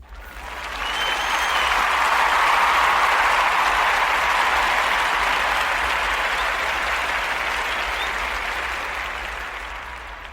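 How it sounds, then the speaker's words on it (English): A steady round of applause from a sizable crowd swells over the first two seconds, holds as a dense, even wash of clapping and fades slightly toward the end, with no voices over it. "give you a round of applause."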